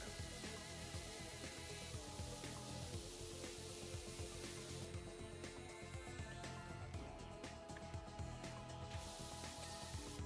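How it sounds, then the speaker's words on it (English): A Stendo sprayer spraying near office walls gives a steady, faint hissing mist that runs without pause and shifts slightly in tone partway through. "with the new Stendo sprayer, won't be a thing to get it"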